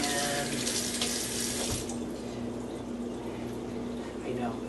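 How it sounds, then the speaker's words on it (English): A kitchen tap runs steadily into a sink while hands are washed, a constant close splashing rush with a brief change in the flow partway through. "I'm going to go ahead and wash my hands because you should always wash your hands"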